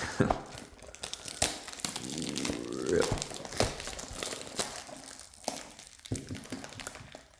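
Plastic wrapper on a My Little Pony card game booster box is peeled and unwrapped upside down, giving close, loud crinkling and crackling with repeated sharp rustles and small tearing snaps throughout.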